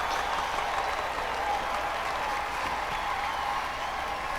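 Sustained applause from a large crowd in a Hunger Games film scene, a dense, even wash of clapping heard from a distance at moderate volume.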